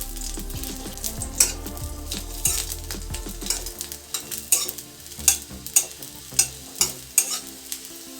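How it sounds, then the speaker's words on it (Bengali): Four or five garlic cloves fry in a little mustard oil in a wok over medium-low heat, a steady sizzle broken by a series of sharp scraping and tapping stirs that grow more regular toward the end. "এবার কড়াইয়ে অল্প করে সর্ষের তেল দিলাম। এতে 4 থেকে 5 কোয়া রসুন আমি ভালো করে ভেজে নেব।"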